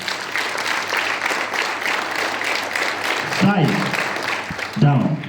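Pupils clap at a school morning assembly, a steady patter of many hands that continues throughout, with two short spoken commands breaking in near the end.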